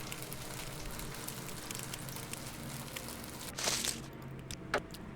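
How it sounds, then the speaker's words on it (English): Meat frying over a campfire in the video game Morrowind, heard as a continuous close sizzle and crackle, with a brief louder burst of hiss near the end and a single sharp pop. "Listen to that lovely frying."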